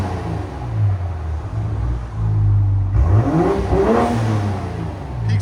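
2020 BMW M340i 3.0L turbo inline-six with muffler delete and Dinan cat-back exhaust, revving from a steady idle in one loud rising and falling blip before settling back to idle.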